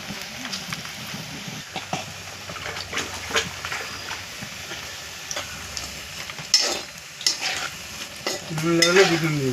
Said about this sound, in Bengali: শুরু হলো পকোড়ি ভাজা।